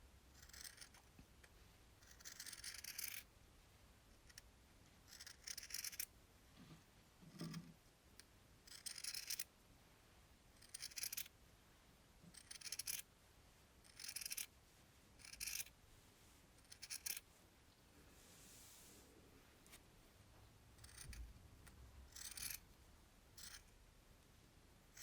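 Scissors snipping through T-shirt fabric along a straight line, a series of short separate cutting bursts with pauses between them, quiet and close.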